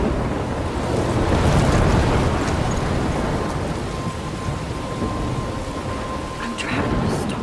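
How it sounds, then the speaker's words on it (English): Thunderstorm in the Life is Strange video game: a loud rolling rumble of thunder over steady rain and wind noise, swelling and then easing off. "I'm trapped in a storm?"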